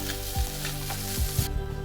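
Egg chicken chow mein sizzling as it is stir-fried in a pan, a continuous hiss of frying broken by a few low scraping stirs, close and fairly loud with no talking.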